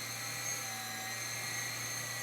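Old 20-year-old RC helicopter flying and circling on its own with its tail wagging, giving a steady high-pitched motor whine with rotor buzz, continuous and fairly close, with no talking.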